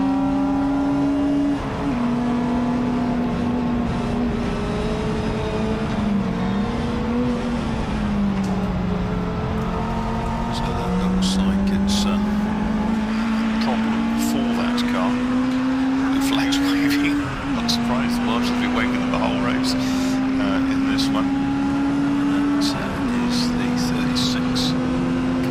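Tin-top touring race cars, including Puma Cup entries, roar around Silverstone National circuit, engines droning steadily and shifting pitch as they accelerate and pass, under continuous commentary from a race commentator.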